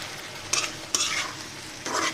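Spiced eggplant sautéing in a pan, a steady low sizzle broken by three short, bright bursts of stirring and scraping, close up with no talking.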